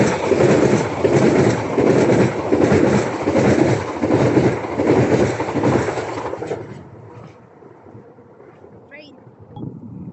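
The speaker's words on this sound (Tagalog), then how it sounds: "Ayan po ang train na papunta ng airport." Train passing on a railway line toward the airport, a loud rumbling roar with rhythmic rail clatter that drops off as it moves away, with a person talking nearby and some wind noise.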